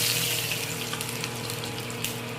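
Panch phoron spices crackling and sizzling in hot oil along with green chillies and bay leaf, a steady close frying hiss with small pops and no talk.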